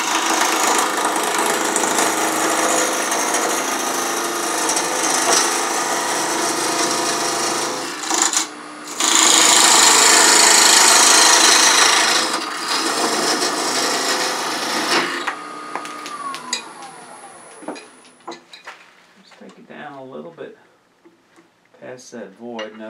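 A woodturning lathe cuts a cherry burl lidded box with a loud, continuous rasping roar for about fifteen seconds, then the machine winds down to a fading hum. Intermittent quieter tapping and scraping follow.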